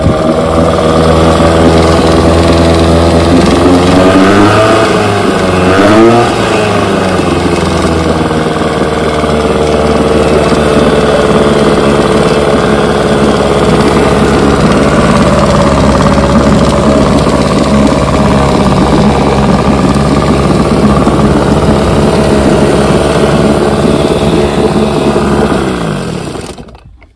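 A 1972 Evinrude 9.5 HP outboard motor runs continuously at a loud, steady idle, its pitch wavering briefly early on before settling and then cutting off at the end.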